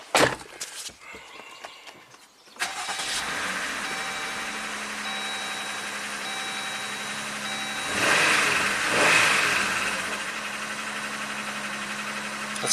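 A 2019 Jeep Rubicon's Pentastar V6 with a P0300 misfire code and 71k miles cranks and catches after a few seconds of handling noise, then idles steadily nearby with a brief rev rise around the middle.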